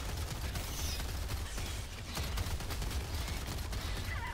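Rapid, continuous gunfire in the co-op shooter Helldivers 2 during a fight with bugs, a dense rattling barrage that stays loud without letting up and has no voices over it.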